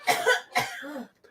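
A woman gives two harsh coughs in quick succession, close and fairly loud, with a short rasp trailing off after the second.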